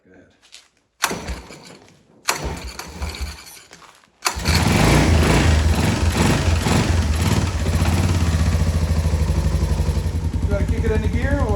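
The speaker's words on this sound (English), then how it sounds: "You gotta kick it into gear, we'll let it turn over." A Yamaha 225DX Tri-Moto three-wheeler being cranked: two short bursts of turning over, then the engine catches and runs steadily at a loud, close idle, with voices briefly heard at the start.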